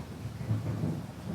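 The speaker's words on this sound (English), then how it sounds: "You guys can hear the thunderstorm going on right now." Thunderstorm thunder during an indoor partner Thai massage session, a low distant rumble rolling steadily beneath faint rain-like hiss, with no voices over it.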